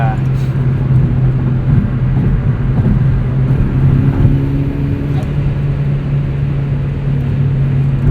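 Inside a 2009 Chevrolet Cobalt SS taking a series of turns, a steady engine drone and road noise fill the cabin at moderate volume, with a voice talking over it.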